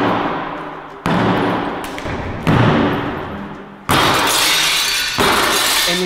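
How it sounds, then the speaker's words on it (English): Burglars striking window glass: several heavy blows, each a sudden loud crash of shattering glass that rings and decays before the next, up close with no talk. "When burglars attack the window glass,"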